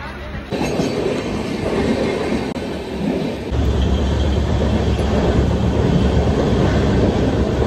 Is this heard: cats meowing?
no